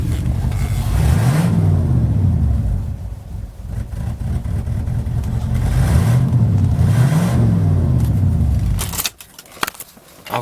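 Mercedes-Benz W126 500SEL S-Class saloon driving under load: a loud, steady engine drone with rising revs and gear changes, two pitch sweeps audible, before it quiets to idle.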